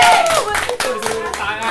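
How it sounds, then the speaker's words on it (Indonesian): A small audience gives a brief burst of clapping for the crew, with a voice speaking over it. "Tepuk tangan dong buat kru-nya."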